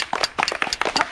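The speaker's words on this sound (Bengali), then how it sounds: "হাততালি হাততালি।" Hands clapping in a quick, uneven rhythm for about a second at a Bengali party game of placing colored bottles on matching colored paper, fairly loud and close, with no talk over it.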